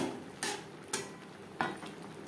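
A metal lid is handled and set onto a pot of masoor dal on a low gas flame, three sharp clinks spaced apart over a quiet hiss.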